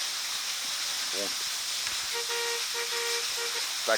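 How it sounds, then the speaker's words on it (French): A short, thin horn on an EMO X4 RC car with a Fusion Pro 2300kV motor toots a few times in brief bursts, fairly close, over a background hiss. "Klaxonne."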